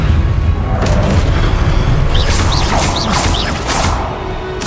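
In the Hogwarts Legacy video game, casting the Levioso spell brings a deep, rumbling boom layered with a run of quick rising magical swooshes. The effect is loud and sustained throughout, with no talking.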